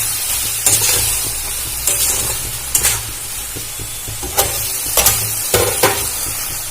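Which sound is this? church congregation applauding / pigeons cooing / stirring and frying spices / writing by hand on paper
stirring and frying spices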